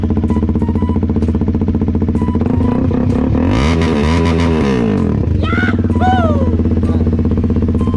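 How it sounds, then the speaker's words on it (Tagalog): A 2017 KTM RC 390 single-cylinder motorcycle, around 400cc, revs hard at a bike rev meet, its loud near engine climbing from idle into a sweeping, rising roar and falling back amid other big bikes. "Bomba na rin natin sa atin. Single cylinder lang ito mga boss ha."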